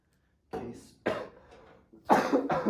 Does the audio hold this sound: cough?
yes